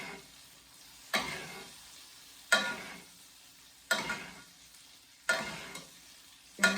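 Butter and garlic sizzle softly in a pan, and a utensil scrapes through them in regular strokes about every second and a half, close and fairly quiet.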